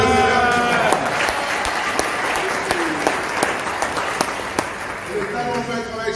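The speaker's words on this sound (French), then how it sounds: "On applaudit le Seigneur." A church congregation applauds during a joint worship service, scattered sharp claps rising over voices and ringing tones, with talk continuing underneath.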